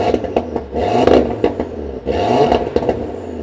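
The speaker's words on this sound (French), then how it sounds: "est-ce que tu peux nous faire écouter le son de la bagnole?" Audi RS3 engine revving in short bursts, loud and close, with a rising whir and some clatter between blips.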